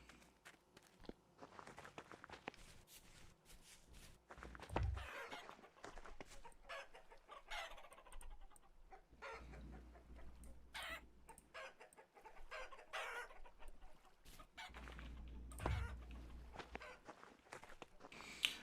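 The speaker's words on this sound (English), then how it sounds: "Make sure the chickens are kind of fed here." Chickens cluck and murmur in the Vintage Story video game, soft and steady throughout, with footsteps and occasional low thumps mixed in and no talking.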